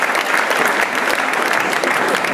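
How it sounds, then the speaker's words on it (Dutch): A studio audience bursts into loud, continuous applause for a contestant, a thick wash of many clapping hands that stays full and steady throughout. "Applaus voor Philippe Rompelbarek"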